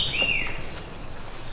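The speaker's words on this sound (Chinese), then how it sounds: "透早伫个森林听虫鸣鸟叫" Early-morning birdsong in a mountain forest: a single short, clear chirping call rises above quiet background ambience, moderately faint.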